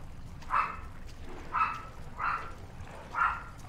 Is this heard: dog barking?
yes